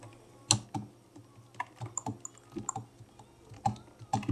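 Close, quiet typing on a computer keyboard, with irregular individual key clicks and short bursts spaced through a quiet room.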